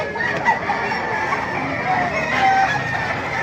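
SBR gamefowl roosters crow and hens cluck close by amid a busy flock at a market in Baliuag, with faint voices in the background.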